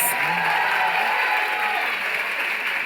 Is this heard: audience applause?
yes